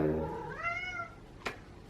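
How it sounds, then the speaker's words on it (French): A single close, clear cat meow, rising then falling, followed by a short faint click. "le chat."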